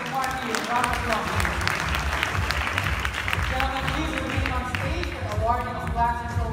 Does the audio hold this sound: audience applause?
yes